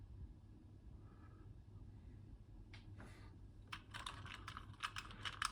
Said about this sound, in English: Pressing the keys does nothing.